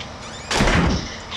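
A door opening in the survival horror video game Outlast: a sudden, loud, rough scraping thunk that lasts about half a second, then quieter room tone with a brief faint sound at the end.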